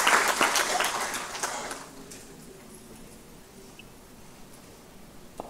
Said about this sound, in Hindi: एक बार तालियों के साथ स्वागत करते हैं माननीय राज्य मंत्री जी का